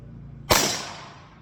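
A single sharp report from a Marlin XT22M rifle firing at a paper target, a close crack followed by a short fading decay, with no other sounds around it.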